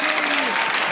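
Audience applause at a Special Olympics convention fills the brief moment, steady dense clapping from a crowd with a voice briefly audible underneath.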